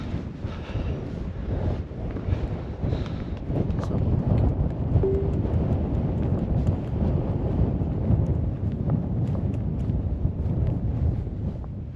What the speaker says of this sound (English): Still quite windy